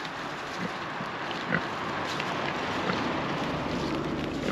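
Pigs grunt and oink close by in a muddy pen, a dense run of rough snorts over constant wind noise, with no talk.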